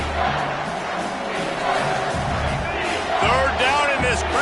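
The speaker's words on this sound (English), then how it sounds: "Third down, and this crowd is tearing the lid off this place." A football stadium crowd roars loudly on third down at a South Carolina game, a dense sustained wall of cheering and yelling, with a voice audible over the din.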